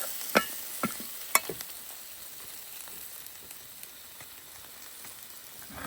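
A pot of pork head in fiery chili sauce simmers after water is added, a soft steady sizzle and bubbling hiss with a few sharp clinks of a utensil early on, no voices.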